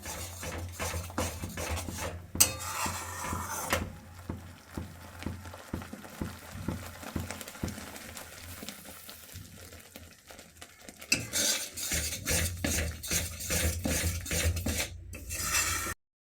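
Spice paste stirred and sautéed in a pan, repeated scraping and clinking of a spoon against the pan in a steady rhythm, with a sizzling stretch at the start and end, no talk.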